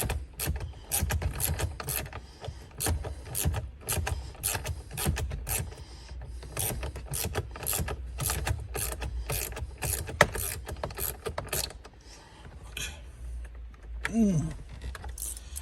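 A ratchet is taken to the bolts of a Mercedes-Benz E-Class center console during removal, making repeated close, quick clicking strokes in bursts, with a scrape and a short knock toward the end and no talking.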